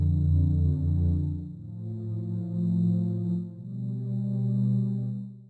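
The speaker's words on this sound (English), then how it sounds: "let's go for some synth pads, maybe a warm pad" Warm synth pad preset holding sustained chords, smooth and loud with soft swells and a chord change partway through, alone without any voice.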